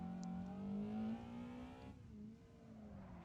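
A car's engine driving the Akina course in the Assetto Corsa game, heard as a steady droning whine that rises slightly in pitch, then eases off as the revs drop.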